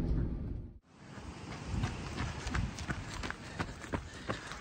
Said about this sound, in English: Jogging with the three of us.